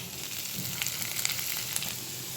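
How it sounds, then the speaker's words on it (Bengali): Moringa leaves and onion sizzle and crackle in a hot pan, a steady bright frying hiss with scattered pops. "শাকটাকে এবার পেঁয়াজের সঙ্গে ভালো করে ভেজে নেব"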